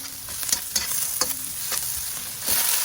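Cabbage sautéing in a pan, a steady close sizzle with scattered bright crackles and a few spoon-stir clanks, no voices.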